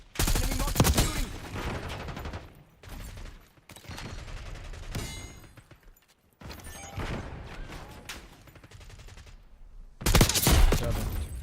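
Enemy marksman fire in a shooter game: loud bursts of gunshots and rattling volleys in several clusters separated by brief lulls, close and dense.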